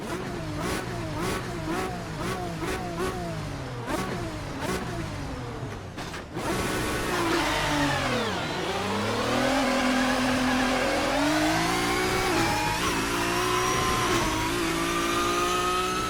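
Ferrari V12 race car in Assetto Corsa with a GT Legends mod, engine revving in rhythmic bursts through gear changes, then a sustained loud rising howl as it accelerates, close and unbroken.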